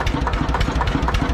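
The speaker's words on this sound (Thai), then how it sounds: "ก็จะได้เสียงเทอร์โบจะได้ทำงานเต็มที่ปิดไปเลย" A turbocharged farm tractor engine running close by, loud and steady with a fast, even knocking pulse throughout.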